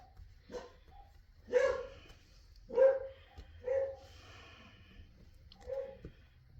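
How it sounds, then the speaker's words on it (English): A few dogs barking in a faraway spot, several separate, spaced-out woofs over quiet background noise. "my neighbor's dogs are barking, which has got him barking"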